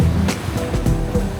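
Waves wash against a rocky lake shore in western Mongolia, a loud, continuous rushing surf with periodic splashes breaking close by, no talking.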